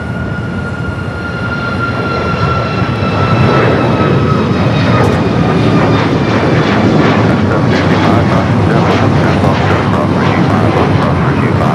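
An Alaska Boeing 737 MAX 9 jet taking off at LAX makes a loud, steady engine roar with a high whine, swelling slightly as it builds power for the departure run.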